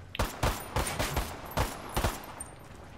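Gunfire in the video game Ghost War: five or six sharp shots in quick irregular succession, fairly close and punchy, with no other sound between them.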